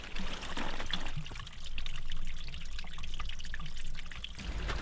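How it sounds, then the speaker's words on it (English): Ice-cold spring water trickles straight out of the ground in snowy winter woods, a steady close babbling flow with no talk. "Spring water right from the ground."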